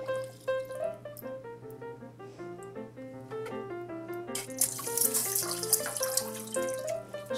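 Paw Patrol Sea Patrol bath squirter toys splash and trickle in bathwater, with steady dripping and running water that grows into a louder, hissing spray partway through.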